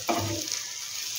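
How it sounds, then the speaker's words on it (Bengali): Coriander is stirred into an egg malai curry in a pan: a short utensil scrape at the start, then a soft continuous sizzle fading out over about a second. "ওইগুলোকে দিয়ে একটু নাড়াচাড়া করব"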